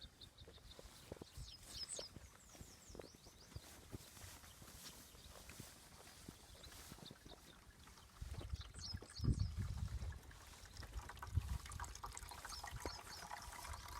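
Water from a hose trickles slowly into a stock water tub on a Kansas ranch, a faint, steady dribble with some shuffling steps and low thumps nearby.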